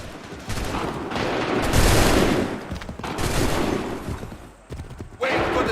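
Musket volleys crackle and roar in dense, overlapping bursts of gunfire in Assassin's Creed III, with shouted commands heard between the loud, sustained salvos.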